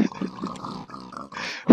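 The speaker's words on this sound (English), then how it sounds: "I'm trapped in the pig pit." Pigs in a pig pit give a series of short, rough grunts and snorts, a few close and loud, ending in a sharper squealing burst.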